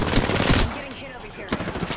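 Automatic weapon fire in a squad-based battle royale shooter rattles out in rapid bursts, first at the start and again near the end, loud and close with a quieter gap between.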